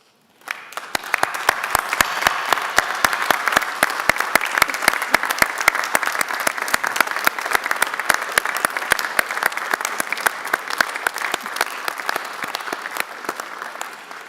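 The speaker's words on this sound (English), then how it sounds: "give to your family, friends, and supporters a resounding round of applause" A large audience at a School of Health Sciences graduation ceremony breaks into sustained, loud applause that starts abruptly and continues evenly for about fourteen seconds before thinning slightly at the end.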